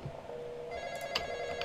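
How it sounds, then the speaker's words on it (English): A phone rings inside the Roblox horror game The Intruder, a steady electronic ringing tone that starts partway through and holds at moderate loudness over a low background hum. "Phone call,"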